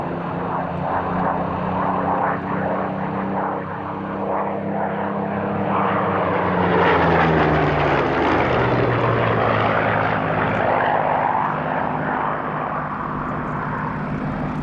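Piston-engined Spitfires kept by RAF Coningsby ground crews fly past at the Duxford airshow, a loud sustained propeller and Merlin engine drone that swells and shifts in pitch as the aircraft pass.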